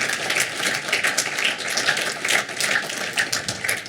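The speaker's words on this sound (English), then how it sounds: "let's give them a nice round of applause" Scattered audience clapping at a university athletics hall of fame induction ceremony, a steady patter of hand claps at moderate level with a persistent hum underneath and no talking.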